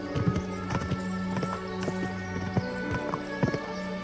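A horse's hooves clop in a quick, regular rhythm while riding in Kingdom Come Deliverance 2, close and clear, over a soft sustained tonal background.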